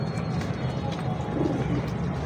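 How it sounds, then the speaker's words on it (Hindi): Soft, low cooing from a breeder pigeon murmurs steadily through the clip, close by, with faint background noise and no clear talk. "लाजवाब किस्म का ब्रीडर कबूतर है और प्योर है एक नंबर उस्ताद मियां नज़ीर वाला"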